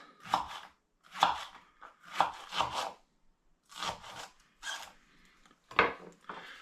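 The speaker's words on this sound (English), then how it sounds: "I'm just going to trim my leek down into slices." A knife slices through a leek on a cutting board in about seven crisp, close chops, spaced unevenly with short quiet gaps between strokes.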